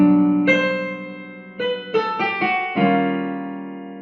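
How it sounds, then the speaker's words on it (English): Eerie, alien-sounding orchestral music from the original Star Trek series, built on fourths and fifths, with ringing sustained tones and several struck accents that layer and slowly fade. "we get a different kind of alien-sounding music"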